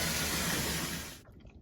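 Water runs and sprays steadily through a leaking bath shower screen in a rental property, a broad hissing wash that stops abruptly near the end, leaving faint drips and small knocks.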